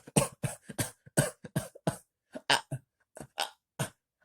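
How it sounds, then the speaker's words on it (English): A woman coughs hard in a rapid series of wet, choking bursts, coughing up blood in a cop thriller film scene, close and isolated with brief silences between fits. "Susan is coughing off blood"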